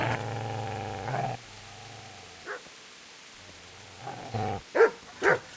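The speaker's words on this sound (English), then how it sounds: "There is a dog. Get away, you mutt!" In the Kingdom Come: Deliverance video game, a dog barks during a cutscene, with a few short, loud yaps near the end that follow low growling tones, over a quiet backdrop.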